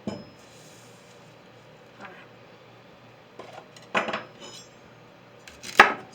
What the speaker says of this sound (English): So I'm just going to trim off my celery